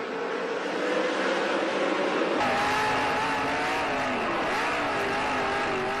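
Sprint cars racing at the Knoxville Nationals dirt track, a loud, sustained engine roar that swells sharply partway through as cars pass close by, with layered revving tones over crowd and track ambience.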